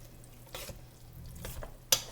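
Cooked pasta being stirred with diced onion in a bowl, a few soft, brief scraping and squishing strokes, fairly quiet, ending with a light clink.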